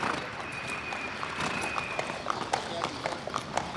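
A racehorse walks at a steady pace, its hooves making faint, regular clip-clop steps against background noise on a racing training track.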